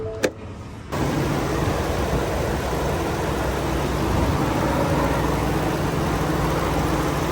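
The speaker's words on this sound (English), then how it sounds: "Nice quiet motor" A stock Gen 4 Ford F-150 work truck's 3.5-liter engine idles steadily and quietly close by, a smooth continuous hum with a faint whine, preceded by a brief click before it settles in.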